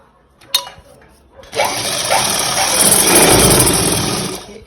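Sewing machine stitching a double seam on the back panel of a full umbrella gher gown, a steady loud running whir after a brief click, continuing for several seconds.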